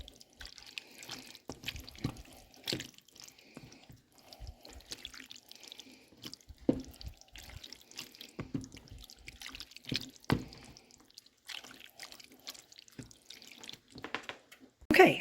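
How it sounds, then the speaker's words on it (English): Canned tomatoes and tomato sauce are poured together into a container at home, giving soft scattered plops, drips and light clatter of the can against the rim, fairly quiet and intermittent throughout. "I'm just going to use this to add the tomatoes and the tomato sauce all together."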